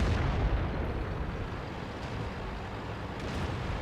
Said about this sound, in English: you can see the artillery's been firing at me the whole time